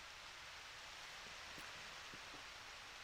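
Steady, soft rain falls on a rainy day in the Harvest Moon video game, a faint even hiss with a few tiny drip-like ticks and no voices.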